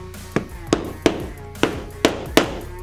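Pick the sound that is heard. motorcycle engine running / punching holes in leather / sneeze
punching holes in leather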